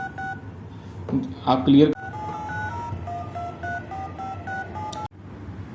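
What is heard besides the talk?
DTMF telephone dialing tones from a tone generator app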